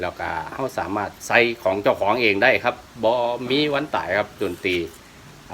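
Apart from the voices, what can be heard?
None of the usual background noises is heard.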